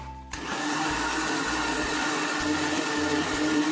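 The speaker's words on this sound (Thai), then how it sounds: "พอเราใส่นมข้นหวานเรียบร้อยนะคะ แล้วก็ปิดฝาปั่นเลยนะคะ" Countertop blender whirring steadily and loudly after the lid is closed, mixing homemade mayonnaise salad dressing with sweetened condensed milk, a continuous motor drone from start to finish.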